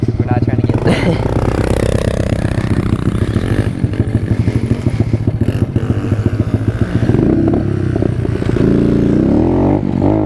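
A pit bike's dirt bike engine roars loudly and continuously while riding off-road on a remote muddy trail, with revs rising and falling and some rattling clatter from the ride.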